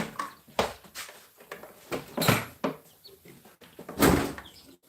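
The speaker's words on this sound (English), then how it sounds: "My door just slammed" A series of sharp knocks and bangs, like a door rattling and slamming shut, repeating irregularly, with a louder thump near the end.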